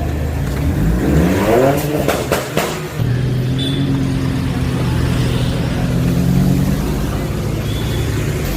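A motorbike engine revs up, its rising whine sweeping upward, then settles into a steady, fairly loud running drone nearby.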